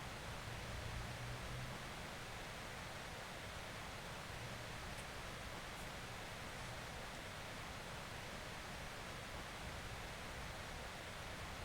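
Rushing river rapids from Final Fantasy VI, a steady broadband roar of churning water that holds at an even, loud level throughout with no pauses.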